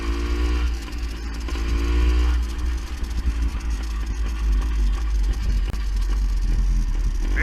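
A vintage Beta Synt trial motorcycle engine running lean with a slipping clutch, a steady close idle with a rough, buzzy drone and slight rises in revs throughout.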